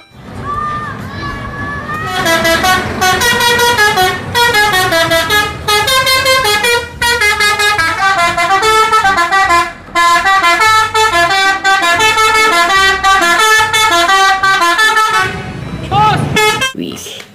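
Sinar Jaya bus horn playing a loud, continuous melodic tune of rapid repeating notes, close by, for roughly fifteen seconds with a brief break midway.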